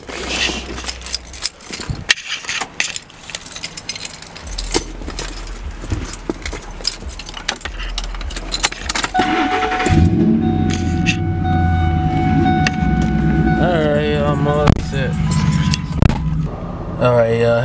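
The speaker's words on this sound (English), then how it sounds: "Start the truck up, get it warmed up." A truck engine starts and settles into a steady, loud idle, with a strong low rumble holding from about ten seconds on; earlier there are clatter and knocks, and a voice talks over part of it.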